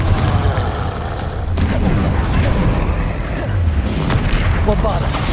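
Repeated Confringo fire-spell blasts from combat in Hogwarts Legacy, a series of booming, rumbling explosions across the clip with voices mixed in.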